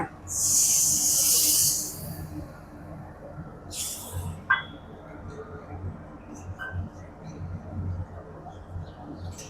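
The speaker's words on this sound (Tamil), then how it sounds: "இப்போ புளி ஊற்றிக்கலாமா" Tamarind water poured into hot oil for a ginger-garlic pickle gives a loud hiss that bursts up and fades within about two seconds. A faint sizzle carries on underneath, with light clinks from the pan.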